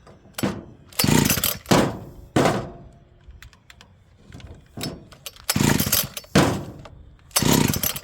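A small engine bought at auction is yanked repeatedly with its pull cord and never catches. About seven loud, rasping cord pulls come in uneven bursts, with quiet gaps between them and no voices.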